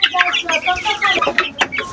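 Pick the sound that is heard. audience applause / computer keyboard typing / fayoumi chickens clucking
fayoumi chickens clucking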